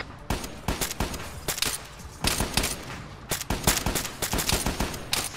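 Heavy gunfire in Arma 3, repeated sharp shots and bursts from several weapons cracking close together in an irregular rhythm, loud and without talk.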